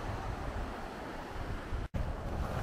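Arctic Ocean surf at Barrow, Alaska, a steady wash of waves with wind buffeting the microphone, continuous and fairly loud, broken once by a brief dropout.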